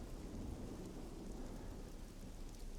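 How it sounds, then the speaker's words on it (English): Steady, dense rain with a low thunder rumble fills the rainy Russian farm map Downpour in Call of Duty 4: Modern Warfare Remastered, continuous and even throughout, with no voices. "the description of this map calls it a big, rainy Russian farm"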